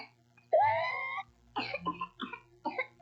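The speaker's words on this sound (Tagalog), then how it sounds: "Ganito na ba ang ubo ng anak mo?" A child's cough from whooping cough (pertussis): a long, high, rising whoop-like intake followed by a quick series of harsh, close coughing bursts in an uneven rhythm.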